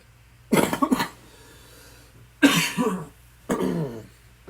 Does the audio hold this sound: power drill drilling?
no